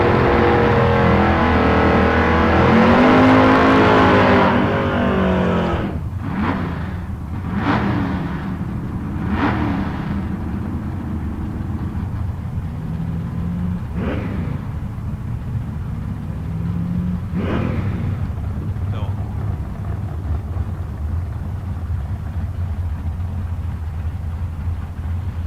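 At a drag strip during bracket races, a pair of cars roars loudly at the start and then fades as they run down the track. Several sharp bursts follow over a lingering low rumble.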